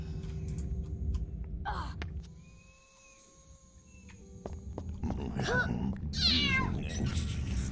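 A cat meows several times in a Harry Potter video game, the rising, curving cries coming toward the end over game music and background noise, with a quieter gap in the middle.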